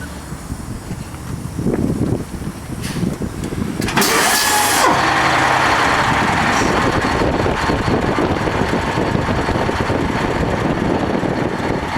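A TTC Fishbowl transit bus, number 2252, cranks and starts its engine, then revs and settles into a loud, steady running drone close by, with no talking.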